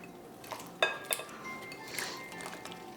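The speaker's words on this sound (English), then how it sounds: "And now I'm going to add the onion I cut into big chunks." Big chunks of onion drop into a pot of vinegar and water marinade with a few sharp clinks and knocks against the pot, followed by soft splashing.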